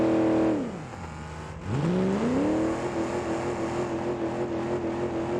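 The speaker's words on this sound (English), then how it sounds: "It's cranking over, but it's not even starting." A car engine in BeamNG.drive cranks over but does not start. The whirring starter note drops, pauses, then rises again into a steady drone, with no one talking.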